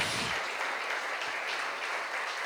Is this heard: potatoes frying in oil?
no